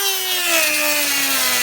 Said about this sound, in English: we have a Dremel. This is a wood cutting bit for the Dremel